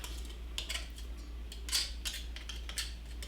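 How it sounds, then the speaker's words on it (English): Light metallic scraping and clinking as sourdough soda bread dough is scraped from a pastry blender, in a series of short strokes over a low steady hum, close by and fairly quiet. "So first we get it out of the pastry blender here."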